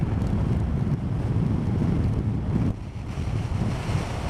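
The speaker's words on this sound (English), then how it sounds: "it's getting windy again" Strong wind buffets the microphone in a continuous low roar, steady and loud throughout, with no voices.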